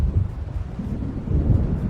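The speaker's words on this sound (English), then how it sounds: "It seems there's a storm coming." Low rumbling thunder of an approaching storm in Alan Wake Remastered, a deep continuous roll mixed with wind-like noise, fairly loud and sustained throughout.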